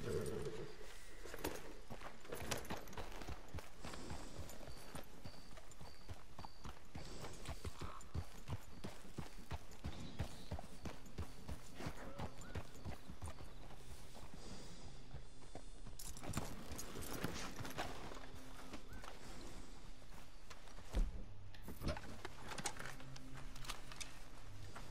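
Horse hooves clip-clop steadily at a walking pace in Red Dead Redemption 2, set against dense game background sound for the whole stretch, with a few sharper knocks.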